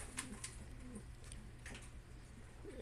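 Soft pigeon coos repeat a few times over a steady low hum, with some faint higher chirps mixed in.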